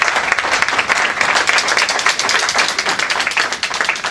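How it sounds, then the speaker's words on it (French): Audience at an evening event applauding the hosts, a full, continuous round of many hands clapping, close and loud for the whole four seconds. "Je voudrais qu'on applaudisse nos animateurs."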